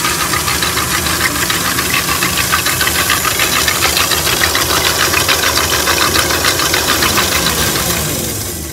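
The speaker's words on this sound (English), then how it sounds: "you're going to take 3 egg whites. And you're going to beat them until they form stiff peaks. And you're going to need a mixer." An electric hand mixer whips three egg whites to stiff peaks, a loud, steady motor whir with a rattling beater chatter running continuously close by, no voices, tapering slightly at the end.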